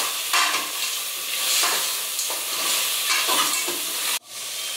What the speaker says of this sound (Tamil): மல்லித்தூள் சேர்த்துட்டு எல்லாத்தையும் நல்லா மிக்ஸ் பண்ணி விட்டுருங்க